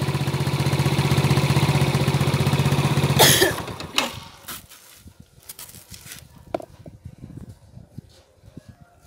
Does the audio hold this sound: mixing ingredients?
no